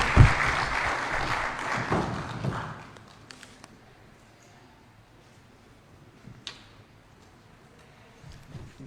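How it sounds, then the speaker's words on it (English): Audience at an economic recovery planning workshop claps for a speaker being welcomed to the podium; a burst of applause lasts about three seconds, then gives way to near-quiet room noise with scattered taps and small movements. "A big round of applause for him."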